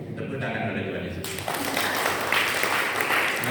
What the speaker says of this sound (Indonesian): Tepuk tangan oleh Tuhan Yesus.